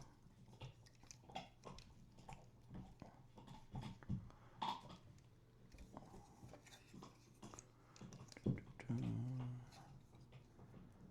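A dog chomps and chews underneath a desk indoors. The crunching and gnawing stay faint and irregular, in short scattered bursts against a quiet room.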